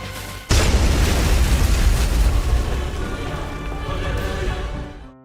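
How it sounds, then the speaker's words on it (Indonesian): A sudden massive explosion as boxes of fireworks blow up inside a warehouse, a loud booming blast followed by a sustained roaring, crackling rumble that slowly fades after several seconds. "Api telah sampai lalu meledakkan box-box kembang api di gudang itu."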